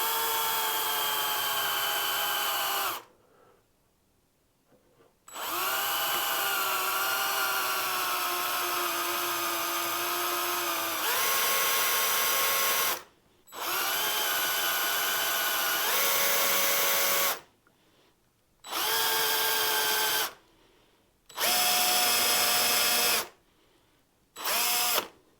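Power drill boring a hole into a Telecaster guitar body by hand, without a drill press: a loud, steady whine repeated in several bursts of varying length, separated by short pauses of silence.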